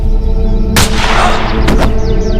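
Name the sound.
gunshot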